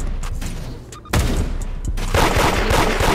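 Rapid bursts of gunfire from the Roblox game Da Hood, loud dense volleys and sharp booms in quick succession that grow heavier toward the end, alone without talk.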